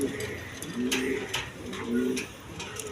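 A pair of large Sirazi pigeons of Lahori type, a male and a female, coo in low repeated rolling phrases close by, over a murmur of background noise and faint voices.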